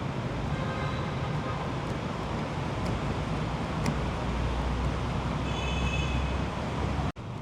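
A steady, loud rumble of a Hanoi metro train in motion, with constant roaring noise and faint high-pitched squeals from the rails, ending in a brief cut.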